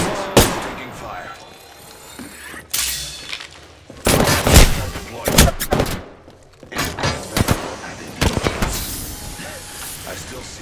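Bursts of gunfire crack through an Apex Legends firefight, sharp repeated shots in clusters with clanks and thuds between them, loud and close, while voices talk over the action.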